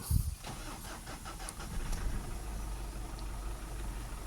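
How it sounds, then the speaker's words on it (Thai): A Ford Ranger engine cranks briefly, then catches and settles into a steady low idle, close and moderately loud, with no talk over it. "เดี๋ยวผมจะทำการสตาร์ทนะครับ"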